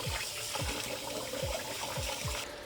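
Cold water sloshes continuously as a hand swishes rice around in a bowl to rinse out the starch, a close, steady watery churning with soft rhythmic pulses and no talking.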